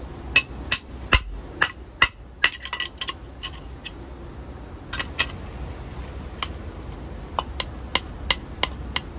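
A hammer strikes a knockout on a metal electrical box in sharp, loud, irregular metallic blows, some in quick clusters and others spaced apart, with quiet pauses between.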